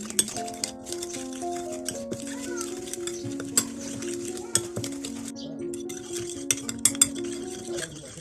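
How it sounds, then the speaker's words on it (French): Spoon stirring and clinking against a bowl while chicken marinade is mixed with salt, ground pepper and half a stock cube, light repeated taps and scrapes close up, with a sustained musical tone running underneath. "on va bien mélanger le tout"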